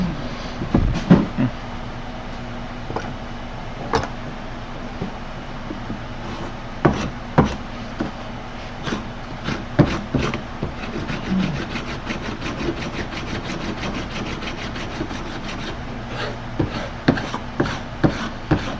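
A rasp scrapes a found piece of wood being shaped into a katana. Irregular sharp strokes and clacks come close by over a quiet background, with no talking.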